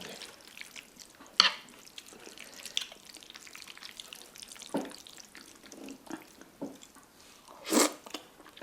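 Quiet close-up eating of jjajangmyeon noodles with webfoot octopus: soft slurps, chews and a few sharp utensil clinks, scattered irregularly against a faint room background.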